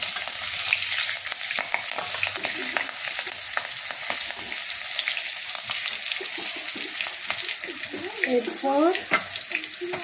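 Green chilies fry in ghee and oil, a steady hissing sizzle with scattered pops and spoon scrapes, and a brief spoken word partway through.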